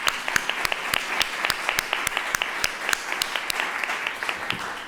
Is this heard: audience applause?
yes